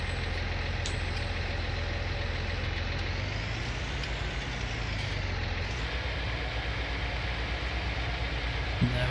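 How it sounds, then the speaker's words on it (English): A tractor pulling a seeder in Farming Simulator 19 drones with a steady, loud engine rumble, continuous and close, with no talking. "I'm going to get the tractor, the seeder all set up, get in the field"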